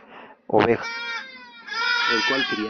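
Sheep bleating close by, a brief lower sound followed by two long, loud, wavering bleats with a short pause between.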